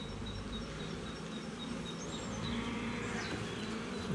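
Bees buzz around beehives during swarm handling, a dense, steady hum that holds throughout and swells slightly toward the end, with no talking.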